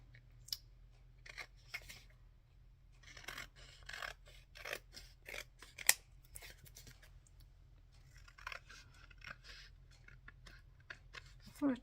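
Scissors trimming a beige paper tag, a series of short crisp snips and rasping cuts at close range, quiet and intermittent, with a person speaking softly between them.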